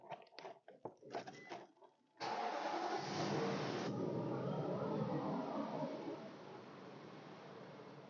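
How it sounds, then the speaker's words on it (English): A Nissan Armada engine cranks and catches after a fuel pump replacement, a few clicks and rattles followed by a sudden start that settles into a steady idle, fairly quiet and close. "I'm going to go ahead and start the vehicle one more time just to do a leak check"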